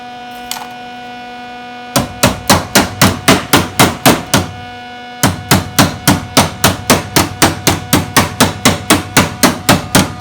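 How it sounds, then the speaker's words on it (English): Hammer peening rough-bent metal patch pieces over for welding on the inner wheel opening of a 1974 Dodge Dart Swinger, in an old-school shop: a long run of loud, evenly spaced metallic blows, a brief pause, then another steady burst, over a low shop hum. "he's just peening them over so we can weld them in place"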